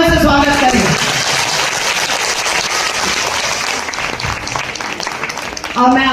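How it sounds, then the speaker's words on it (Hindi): A loud, dense burst of applause from the audience at a devotional event honouring mothers and fathers, steady and sustained throughout, with a brief voice breaking in at the very end. "जोरदार तालियों से स्वागत करें।"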